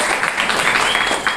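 A short burst of audience clapping at a community gathering at an Angolan cultural house in Brazil, brisk and fairly loud.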